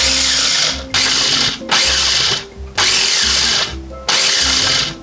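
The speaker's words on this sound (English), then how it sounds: "Short bursts of chop to try to get it nice and frothy." A blender pulsed in short chop bursts whips eggs until frothy for avgolemono: about five loud, close whirring motor bursts, each roughly a second long, separated by brief dips, with no talking.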